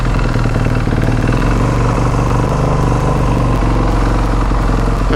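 A motorcycle engine idles steadily while warming up after choke use, a loud, close, even low-pitched putter with light mechanical clatter that holds constant throughout, no talking.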